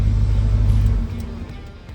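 A Chevy car engine starting up and then idling with a deep, steady rumble, loud and close, settling to a lower level partway through.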